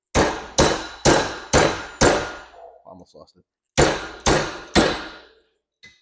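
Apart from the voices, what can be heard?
hammering with an 8-inch AutoZone adjustable wrench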